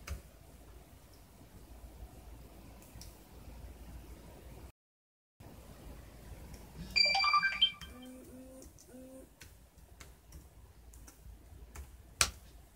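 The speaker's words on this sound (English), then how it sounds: "phone is ringing" Phone ringtone going off, a short electronic melody of repeated tones heard twice over quiet background ticking, loud and close.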